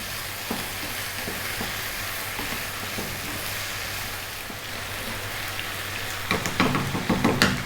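Curry ingredients for an Indian restaurant-style lamb curry frying in a pan, with a continuous close sizzle and occasional stirring scrapes that grow louder and more frequent toward the end.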